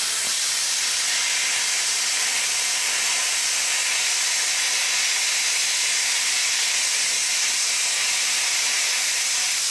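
A cheap $200 plasma cutter slices through quarter-inch steel plate with a loud, steady, unbroken hiss that runs the whole time with no talking.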